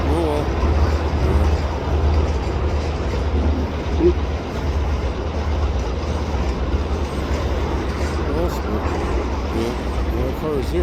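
A CN freight train making up railroad cars over a river bridge, a steady loud rumble and rolling roar that holds throughout with faint clanks, with voices talking over it.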